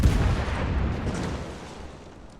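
A naval artillery salvo from a cruiser in World of Warships: a heavy, booming blast that starts loud and rolls off into a fading low rumble over a couple of seconds, with no talk over it.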